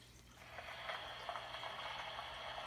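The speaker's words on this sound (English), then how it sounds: "It's the rain." A faint, tinny rain effect from a children's sound book plays softly, a thin watery hiss with light splashy patter over a low electronic hum.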